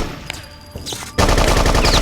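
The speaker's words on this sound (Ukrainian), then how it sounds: "Давайте так постріляємось." Sustained rapid machine-gun fire in the video game BloodRain, loud and dense, breaking in abruptly after a quieter stretch with a few isolated shots and continuing unbroken to the end.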